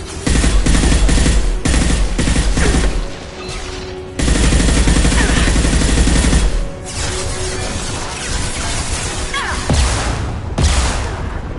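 Turret machine gun fire rattles in rapid, heavy bursts during combat in Mass Effect 2, loud and close, with booming impacts and brief pauses between volleys.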